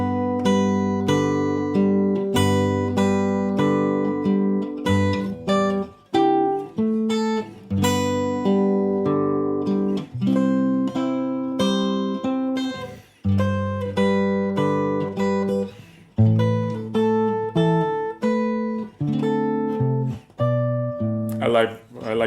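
Jazz guitar plays the Jingle Bells chorus in a rearranged chord-melody style, with a walking quarter-note bass line under sustained harmonies, steady and clear throughout.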